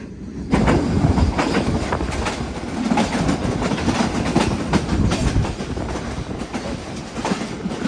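Awam Express passenger train pulling away, a steady rumble with rhythmic clickety-clack of wheels over rail joints heard from inside a refurbished coach, continuous and fairly loud.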